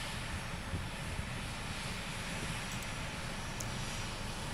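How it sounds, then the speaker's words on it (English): Fairchild Republic A-10 Thunderbolt II in P-47 Thunderbolt livery arriving on a flight line, a steady low engine roar holding fairly even and moderately loud throughout with no voices. "Making a subtle and somewhat understated arrival as the A-10 repainted in a P-47 Thunderbolt livery"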